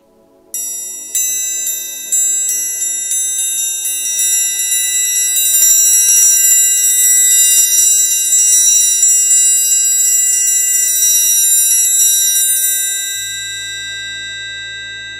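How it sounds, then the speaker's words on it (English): Triangle struck in repeated hits that build into a loud, shimmering roll full of ringing high overtones, then a long sustained ring that slowly fades with a low hum at the end. "a triangle roll is usually pretty loud and happens at very loud moments of music"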